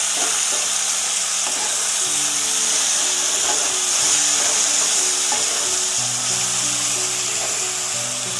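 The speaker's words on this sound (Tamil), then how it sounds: "இது அப்படியே நல்லா வதங்கட்டும்." Tomatoes sautéing in a pan as the base for prawn thokku give a steady, dense sizzle throughout, with a faint low hum and occasional light clicks beneath it and no talking.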